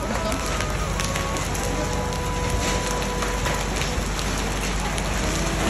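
A hailstorm with hailstones falling densely, heard as a loud, continuous patter and rattle of many impacts, close and unbroken throughout.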